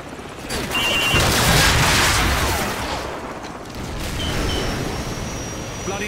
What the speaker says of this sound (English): grab another Stinger and fire again